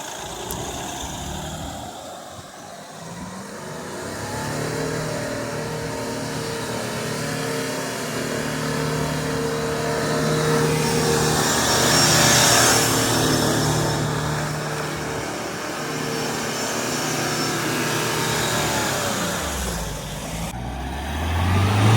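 Off-road vehicle engine revving and straining while drifting through mud, a sustained loud motor roar that swells in the middle and holds steady for about twenty seconds, with no talk over it.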